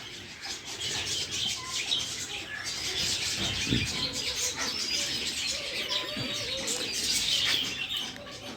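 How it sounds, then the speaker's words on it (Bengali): Small birds, including parrots, chirp and twitter steadily throughout at Maliha Eco Park, a dense overlapping chorus of high tweets with occasional low coos mixed in. "এখানে ছোট ছোট পাখি আছে বিভিন্ন পাখি"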